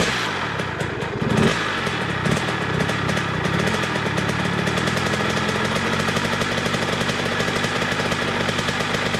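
A freshly rebuilt Kawasaki KX100 dirt bike engine runs close by, a loud, rattly two-stroke idle with a rough, uneven edge and a brief rev near the start.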